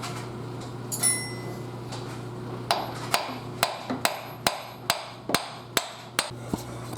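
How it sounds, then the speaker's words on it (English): Hammer blows on a car's CV axle to break it free from the hub, about ten sharp metallic strikes, close and loud, coming in a steady uneven rhythm over a low constant hum. "Now to break the axle free with this hammer"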